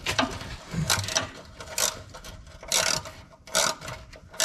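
A ratchet wrench works loose the last bolt on an engine oil pan, giving several bursts of rapid clicking separated by short pauses, close and moderately loud, with no talking.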